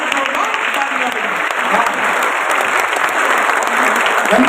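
Loud, dense applause from a crowd at a book festival in Gorakhpur, sustained clapping throughout with no break.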